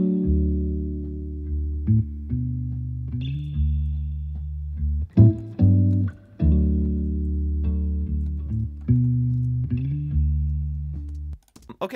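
Electric guitar with its strings deadened by Blu Tack pressed across the bridge, playing short, thumpy, muted notes and chords in a steady pattern, with brief percussive string clicks between them and no talking.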